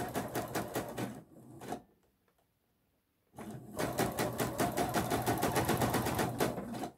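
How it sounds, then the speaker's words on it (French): A sewing machine stitches bias binding onto a neckline, a close, rapid mechanical chatter that runs, pauses for over a second, then resumes in a steady burst. "Alors, je couds dans la pliure. Toujours dans la première pliure."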